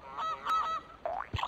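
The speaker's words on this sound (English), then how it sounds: "Goose." Goose honking in the Frogger 1997 video game, Lily Pad Zone level: several loud nasal honks in quick succession, close and clear, with no talk over them.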